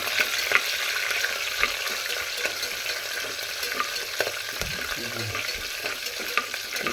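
Moong dal and green chillies frying in a pan, a steady loud sizzle throughout with occasional stirring scrapes, close and without speech.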